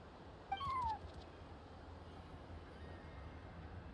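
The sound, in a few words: cat meowing in Genshin Impact video game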